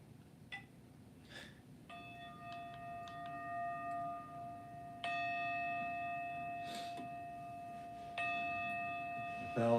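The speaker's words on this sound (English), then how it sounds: "The bell is so great, we get 3 rings." A bell rings three times during a live-streamed practice session, each strike a clear, sustained metallic tone that hangs and fades, spaced a few seconds apart over quiet room noise.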